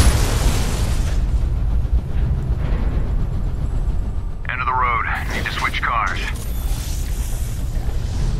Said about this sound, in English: How about a Boris mothership crashing at 10 Gs? Bye-bye, Boris fleet.